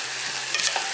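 Filling for dumpling-wrapper dishes being stir-fried and mashed in a pan: a steady sizzle with a few brief scraping stirs, close and alone, lasting about a second.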